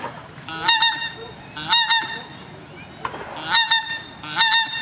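Migrating geese honk in flight in repeated bursts, several calls overlapping, loud and fairly close, with short quiet gaps between the outbursts.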